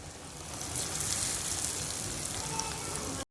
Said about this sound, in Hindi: अब हम इसको फ्राई करेंगे।